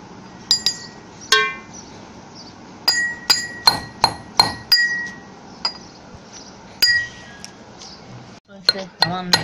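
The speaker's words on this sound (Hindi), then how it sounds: "हम दस्ते से पीसेंगे, बोटी भी पीस जाएगी।" Pieces of cooked meat for shami kabab are pounded with a pestle in a mortar, giving a series of sharp, ringing clinks and knocks at an irregular pace, close and fairly loud, with a busier cluster of strikes at the end.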